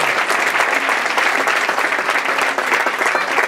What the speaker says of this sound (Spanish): Aplauden todo, hermano, porque hay que enseñar a aplaudir.